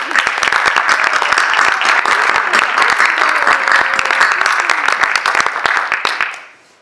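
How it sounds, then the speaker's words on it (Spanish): An audience claps loudly and continuously at the close of a master's thesis defense, producing a dense, even patter of handclaps that fades out in the final second. "Bueno, aplausos."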